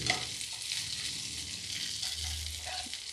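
Long-cut green chillies and garlic frying in hot oil in a pan for an okra recipe, a steady, close, continuous sizzle and crackle with no talking.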